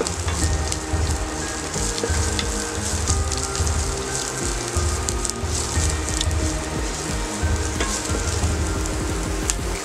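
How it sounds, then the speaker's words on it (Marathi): Chillies and green onion tops sautéing in a pan after garlic, a loud, steady close sizzle and crackle of frying with occasional stirring scrapes, continuous throughout with no talk. "कांद्याची हिरवी पात, याला परत जवळजवळ 1 मिनिट परतून घेऊया."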